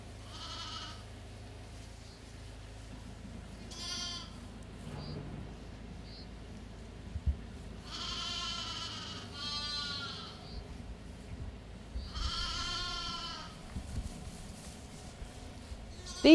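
Young lambs bleating in several separate bursts, some overlapping, heard moderately close over a low background rumble with no talking.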